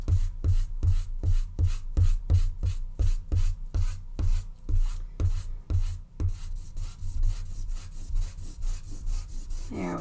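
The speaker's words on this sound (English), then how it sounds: "So I can take my eraser and just lightly go over." A pencil eraser rubs back and forth over a drawing of a platypus in quick, steady strokes, close and fairly loud, with a faint scratchy texture and no talking.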